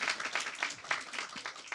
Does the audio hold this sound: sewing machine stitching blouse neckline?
no